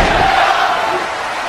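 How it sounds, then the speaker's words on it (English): Wrestling arena crowd at an LA Knight versus Solo Sikoa FCW Championship match, a loud, dense roar of cheering that holds steady with little break, slowly easing off toward the end. "This crowd is going crazy."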